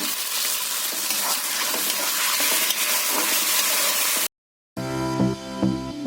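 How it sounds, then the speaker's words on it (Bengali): Boiled potatoes tossed into hot spices sizzle and fry loudly with steady stirring, the dense crackle continuing, then a brief cut before a busier stretch of frying with clattering spoon strokes. "আমি আলুগুলো সেদ্ধ করে রেখে দিয়েছিলাম, তো আমি মশলার মধ্যে দিয়ে দিলাম"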